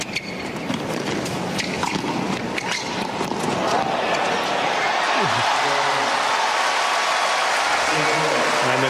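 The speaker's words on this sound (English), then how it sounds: "And the crowd appreciating the fact Santoro is still fighting" Crowd applause at a professional tennis match between Federer and Santoro, a broad sustained wash of clapping that swells and holds, with a commentator's voice over it.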